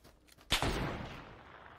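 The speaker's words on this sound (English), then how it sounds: "I heard the shot." A single gunshot in the video game PUBG, a sharp crack followed by a decaying rumble, fairly faint against quiet background.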